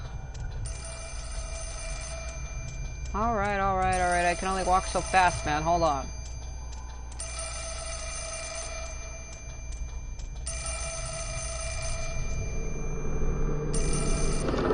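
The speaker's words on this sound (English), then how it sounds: "I hate the sound of phones ringing like that." A telephone rings in the horror video game Fatal Frame 4: Mask of the Lunar Eclipse, repeated bursts of electronic bell ringing over a low ambient drone, with someone talking briefly between rings.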